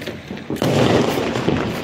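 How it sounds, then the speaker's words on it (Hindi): Diwali firecrackers burst in a dense, continuous crackle after a brief quieter lead-in, loud and close, with overlapping pops and booms filling the whole stretch. "धमाके धमाका हो रहा है इधर से उधर"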